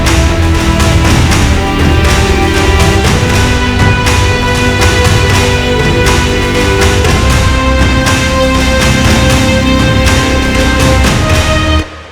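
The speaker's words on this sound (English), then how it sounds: "So the strings and the brass are controlling the sidechain input of the pulses" A dense, loud hybrid action cue of strings and brass drives rhythmic pulses that duck under them, building steadily for about twelve seconds before cutting off abruptly.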